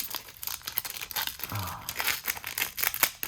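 Someone tears open a Pokémon Go card pack by hand, a quiet run of crinkling foil and short ripping bursts close up, with no voices.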